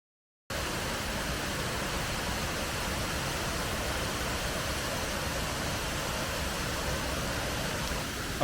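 Cotter Force, a Yorkshire waterfall, gives off a constant broadband rush of falling water after a moment of silence, loud and steady with no talking over it.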